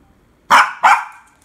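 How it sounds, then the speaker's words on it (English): A dog gives two loud, close barks in quick succession, each sharp and short with a brief tail, against an otherwise quiet room. "Don't bark, daddy."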